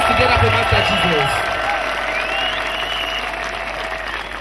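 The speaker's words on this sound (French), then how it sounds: "Applaudissez pour Seigneur Jésus Christ. Put your hands together for Master Jesus." A church crusade crowd applauds in sustained, dense clapping that slowly eases off, with a voice speaking briefly over it at the start.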